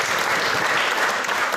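Wedding guests in a Cambridge college chapel hall applauding and cheering during speeches, dense steady clapping from a crowd, continuous and fairly loud with no gaps.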